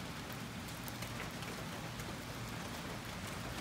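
Rain shower falling outdoors as a steady, dense hiss of drops on surfaces, even and continuous with no voices.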